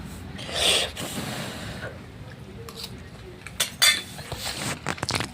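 A metal spoon strikes a plate several times, giving scattered sharp clinks and taps, with a clustered burst near the end and faint background noise between hits.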